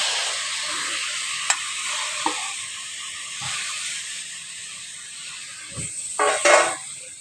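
Boiled banana flower, added with its cooking water to lightly frying potatoes in a pan, gives a steady close sizzle and hiss. A few sharp clinks and stirring scrapes break in, growing busier near the end.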